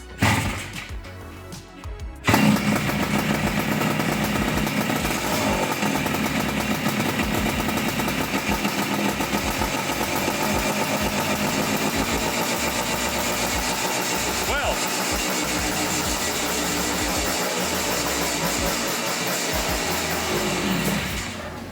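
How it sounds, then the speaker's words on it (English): A classic scrambler motorcycle being revived fires up after a faint cranking start and settles into a steady, loud, close idle that runs for about twenty seconds with no talk over it. "this thing actually started up and idled for a second"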